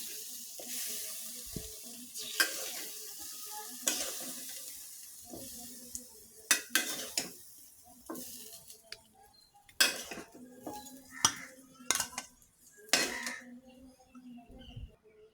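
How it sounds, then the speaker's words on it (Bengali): Metal utensils clink and scrape against a pan while fried chicken is lifted out after the stove is switched off, with a soft leftover sizzle between the sharp, irregular knocks. "চুলাটা অফ করে দিয়ে আমি মুরগিগুলো উঠিয়ে নিচ্ছি।"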